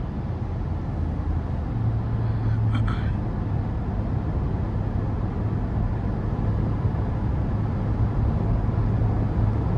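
Steady low road roar fills the cabin of a 2017 Toyota Land Cruiser 5.7 V8 on the move, a constant broadband rumble with a brief higher rattle near the start and a faint low hum underneath.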